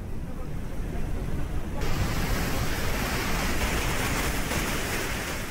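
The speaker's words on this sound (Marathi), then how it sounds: "येरळा नदी दुथडी भरून वाहते" Rushing floodwater of the Yerala River in Sangli roars in a dense, continuous wash of noise, loud and steady, with a gusting texture that swells briefly early on.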